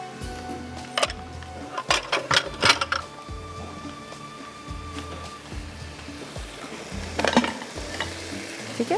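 Masala being sautéed in a pan gives a low sizzle under repeated sharp scrapes and clinks of a spoon stirring against the metal, louder in bursts near the start and end.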